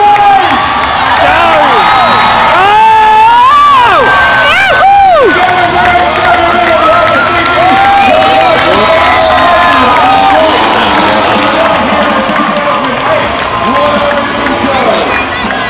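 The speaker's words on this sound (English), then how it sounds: "Stand your feet, clap your hands, yell and scream, and make some noise for the boys!" A large outdoor crowd at a Crusty Demons motorbike stunt show at the 2008 Brisbane Ekka roars steadily, with loud cheering, whoops and high-pitched children's yells sustained throughout.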